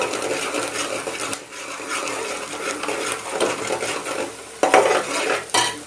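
Onions frying in a pan for Telugu-style egg curry, with steady sizzling and a spoon stirring and scraping against the pan, plus occasional clinks of metal; close and fairly loud throughout, no talking.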